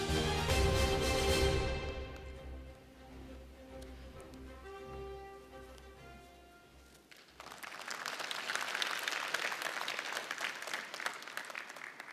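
Full crowd applause breaks out to welcome a speaker at a Korean regional forum on the Busan-Ulsan-Gyeongnam area, a loud, sustained wash of clapping that follows fanfare-like music.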